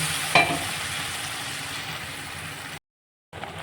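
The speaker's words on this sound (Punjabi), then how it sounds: "ਆ ਦੇਖੋ ਮਸਾਲਾ ਵਧੀਆ ਭੁੱਜੀ ਜਾਂਦਾ ਆਪਣਾ ਪਿਆਜ਼ ਤੇ ਲਸਣ ਦਾ ਪੇਸਟ ਆ" Onion and garlic paste masala frying and being stirred in a pan while a pumpkin curry is made, a close steady sizzle with a brief scrape near the start and a short dropout near the end.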